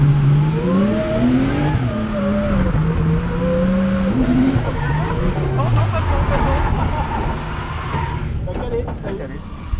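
A Nissan S13 engine revs and rises in pitch as the car shifts into second gear on a circuit, loud and close throughout with tire noise, while someone talks over it.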